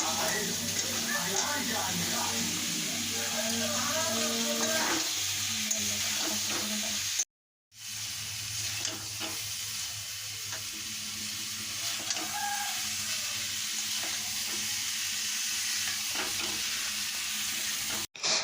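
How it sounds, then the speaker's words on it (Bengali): Spices sizzling in hot oil in a pan, then cauliflower and potatoes stirred in for a Bengali prawn curry, a steady close frying hiss with scraping stirs and a brief pause partway through. "এই দেখো, এখন মশলা কষে নিচ্ছে ভালো করে।"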